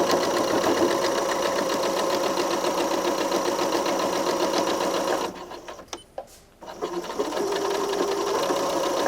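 A sewing machine runs steadily while stitching a pocket seam, a continuous mechanical whir that stops briefly for a couple of seconds before starting up again, loud and close.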